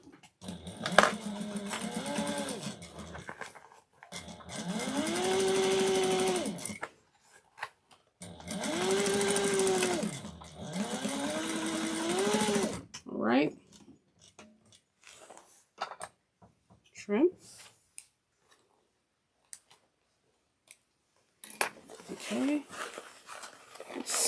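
A sewing machine runs close and loud in three long bursts, speeding up and slowing down as it sews a crossbody bag seam, followed by quieter handling noises and brief talk in the pauses.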